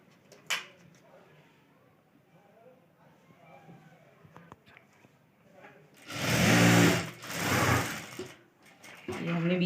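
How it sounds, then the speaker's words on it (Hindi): A sewing machine runs a straight line of stitching along the centre of a boat-neck kurti neckline, a loud, rapid whirring burst of about three seconds, briefly pausing, after a stretch of faint cloth handling. "अब हमें इस सेंटर पॉइंट से मिला के एक सीधी सिलाई कर देनी है।"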